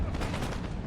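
Musket and cannon fire in the Empire: Total War strategy game, a dense burst of overlapping shots and booms crackling together in one loud, continuous volley over about a second.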